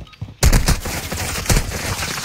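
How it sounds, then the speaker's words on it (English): Video game gunfire bursts in suddenly after a quiet start, with loud, dense overlapping shots and a heavier volley near the middle, sustained to the end with no voices. "why are you shooting at me"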